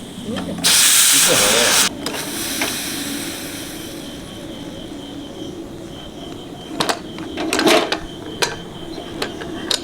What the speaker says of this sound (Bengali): তেল গরম ডালে দেবো